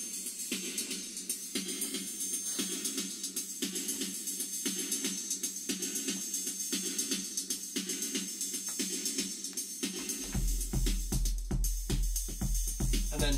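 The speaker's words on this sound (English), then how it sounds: "Add elements of delay." A filtered drum machine pattern with delay added, a dense, steady loop of repeating hits with echoing trails, and a deep, heavy bass layer that comes in near the end.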